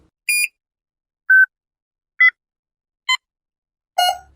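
Five short electronic hearing-test beep tones sound one at a time at different pitches, separated by silence, clean and isolated.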